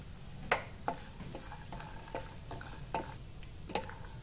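Peanuts roasting in a kadhai, stirred so they scrape and rattle against the metal in a series of light clicks and scratches under a faint steady sizzle.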